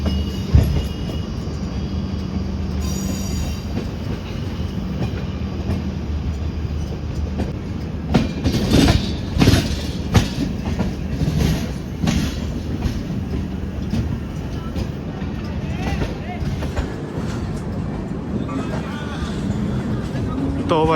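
Shramjeevi Express passenger train rolling on rails as it nears Bareilly Junction, a steady rumble with clickety-clack wheel beats and brief rattling bursts throughout, recorded from on board.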